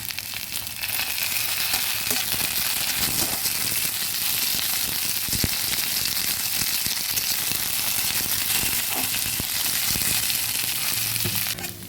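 Curry leaves and bay leaf fry in hot oil with onion and garlic for a mixed dal, giving a loud, continuous close sizzle with occasional stirring scrapes and pops.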